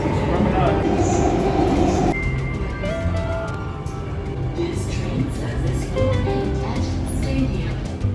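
A loud rumbling ride on Singapore's MRT subway with people talking over the steady train noise and occasional clanks and tones.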